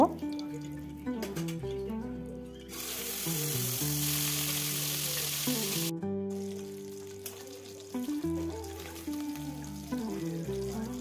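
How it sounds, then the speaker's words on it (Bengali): Oil sizzles loudly and continuously as chital fish fries in a pan, with steady crackling under background music that carries on throughout. "এরপরে বাকি মাছ দুটো আমি ভেজে নেব"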